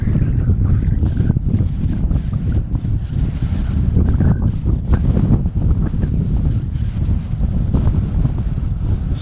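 Wind buffets a hillside slope where a micro model glider is flown, a steady loud roaring rumble of gusts battering the microphone throughout.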